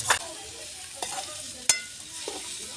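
Cooked potato is stirred into roasted vada pav masala in a pan, with a few sharp spoon scrapes and clinks over a soft sizzle, close and spaced apart.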